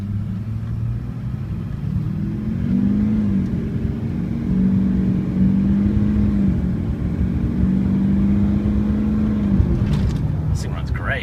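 Engine of a 2004 Chevrolet Silverado diesel 4x4 pickup accelerating from a standstill, a low droning rumble that rises and holds steady, heard from inside the truck at moderate loudness.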